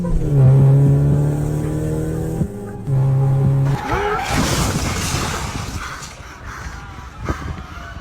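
A car at about 200 km/h roars and revs loudly in sustained high tones, then tires screech and a crash-like burst of noise follows as it smashes into a bus stop on a street.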